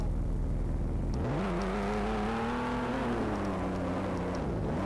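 A car engine in the Roblox video game revs steadily, its pitch climbing and then holding as it drives, a constant droning hum with no talking.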